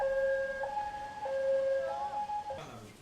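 A South Chungcheong 119 fire-service ambulance sounds a two-tone siren, alternating high and low pitches in a steady slow cycle, loud and close, which cuts off near the end into a brief burst of noise.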